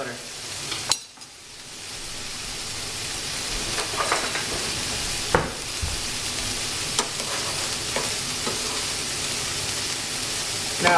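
Alfredo sauce with butter, salt and pepper bubbles and sizzles in a pan, a continuous close crackling hiss with a few sharper pops and clinks through it.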